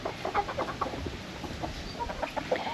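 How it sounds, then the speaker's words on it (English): Coloured-egg-laying chickens in a coop in tropical Far North Queensland, Australia, giving scattered soft clucks and short calls over a low background hum, fairly close and moderately quiet, no talk. "we have coloured egg laying chickens, and they're the weirdest looking chickens you've ever seen"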